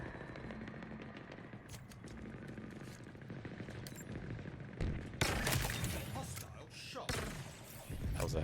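Rapid gunfire rattles through a Halo Infinite Last Spartan Standing match, with dense bursts of automatic shots, louder sharp volleys toward the end, and game effects mixed underneath.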